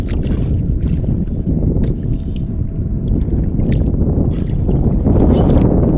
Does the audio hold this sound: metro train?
no